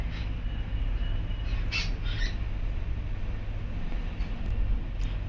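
Birds call noisily outside a house in the evening, with a few scattered, fairly faint squawking calls rising over a constant broadband outdoor background hiss and low rumble, with no voices.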